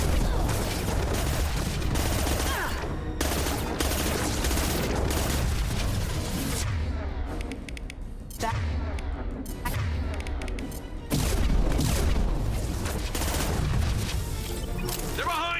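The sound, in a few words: gunfire from the video game Mass Effect 2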